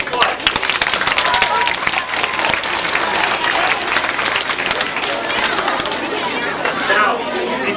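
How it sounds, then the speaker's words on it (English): A school gym crowd at a 1996 middle school science fair claps in a long, dense burst of applause. Voices and chatter mix into the clapping throughout, and it stays loud and close the whole time. "let's give them a round of applause."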